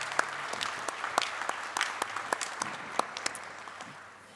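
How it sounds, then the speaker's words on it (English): Audience applause for distinguished guests at a round-table business event, a dense spread of clapping at steady volume that thins and fades toward the end. "please, let's give a round of applause to our distinguished guests."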